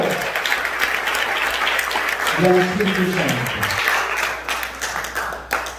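A church congregation claps continuously in dense, steady applause while a preacher's voice speaks over it, the clapping thinning slightly toward the end.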